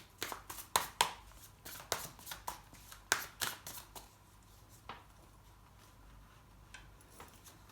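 Tarot cards shuffled by hand until two cards fall out, a run of quick, sharp riffling slaps in an uneven rhythm that thin out into a few scattered soft taps, close and fairly quiet.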